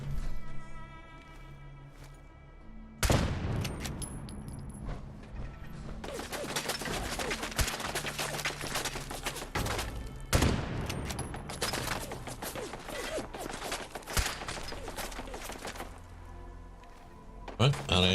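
Gunfire in the video game Fallout 4, sustained bursts of rapid automatic shots with short breaks between volleys, loud and close, with a voice speaking during quieter moments.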